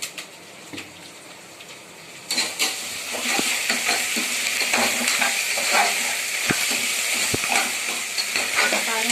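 Onions frying and being stirred until brown for prawn biryani, starting quiet then swelling into a loud continuous sizzle with repeated clicks and scrapes of a spoon against the pan.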